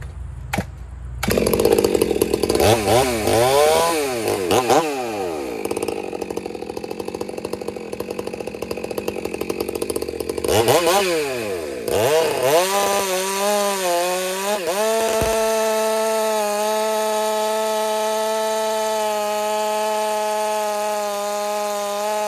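A ported Stihl-size 462 chainsaw runs close and loud, revving up to a high scream and dropping back twice before settling into a steady high-pitched whine.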